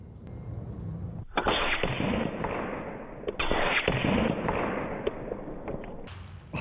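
A Skout Epoch .30 air rifle shot strikes and vaporizes an egg: two sharp, loud bursts, each trailing into a sustained, muffled rumbling roar, with no talking.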